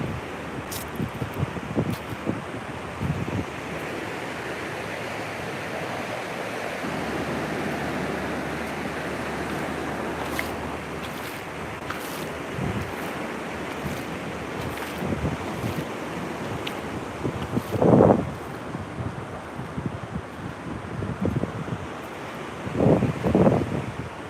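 Strong wind buffets the microphone on a beach, a constant roaring rush blended with surf washing in, with occasional louder gusts and no speech.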